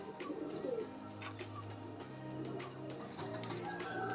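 Several pigeons coo repeatedly in a loft of aggressive birds kept for breeding, with chicks and eggs present; soft, low calls overlap under steady background noise, with faint chirps.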